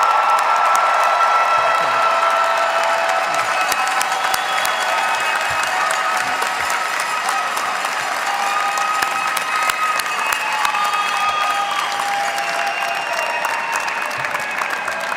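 Sustained, dense applause from a large crowd at a college commencement ceremony fills the hall, a steady roar of many hands clapping with some cheering and whistling mixed in, loud and unbroken throughout.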